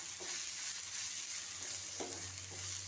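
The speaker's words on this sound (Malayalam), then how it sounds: "നെത്തോലിയും തക്കാളിയും സവാളയും എല്ലാം ആയിട്ട് ഒന്ന് യോജിപ്പിച്ചെടുക്കണം." Dried anchovies with tomato and onion are stirred and fried in a pan, giving a steady hiss of sizzling oil with a few soft scraping strokes of the spoon. The sound is close and continuous, with no voices.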